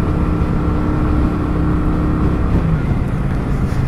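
A Kawasaki Vulcan 900 Classic motorcycle on stock pipes pulls hard in second gear, its engine a steady, close, loud drone with no speech over it.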